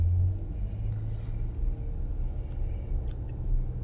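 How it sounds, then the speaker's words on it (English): Low, steady exhaust rumble of a 2020 Dodge Durango heard from inside the cabin while driving, a muted continuous drone with road noise and no voices. "even being in the vehicle, you can still hear the exhaust, but it's not too much"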